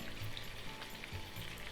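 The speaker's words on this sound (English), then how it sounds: "Lid back on and cook the other side for 3 to 4 minutes." Pork-wrapped onion frying in a pan under a lid, a steady, soft crackling sizzle throughout with no pauses.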